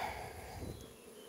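Dense, steady buzzing of many honeybees close by, a continuous droning hum with no voices.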